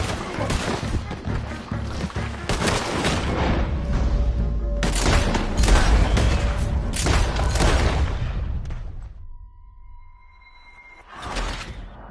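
Loud, sustained gunfire in Red Dead Redemption 2 during a getaway shootout, dense bursts of shots and booms for about ten seconds before fading, then a final shot near the end.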